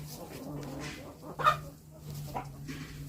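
Turkeys in a rural farmyard during mating, soft gobbling and clucking calls with a low steady hum underneath, faint and a little distant, with a brief louder squawk partway through.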